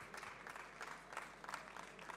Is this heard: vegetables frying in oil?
no